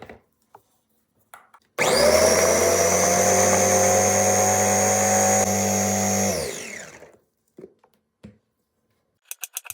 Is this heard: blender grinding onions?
yes